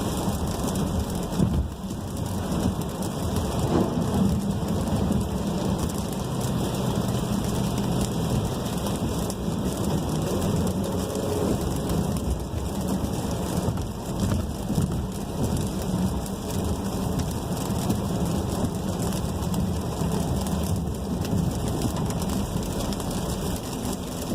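Steady rain and road spray surround a Volkswagen Tiguan driving on a wet road, a continuous broadband wash with low rumble underneath, constant and fairly loud throughout with no talk.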